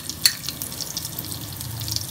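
Panch phoron and green chillies hit hot oil in a pan, giving a sharp initial crackle followed by a steady, close sizzle with small pops throughout.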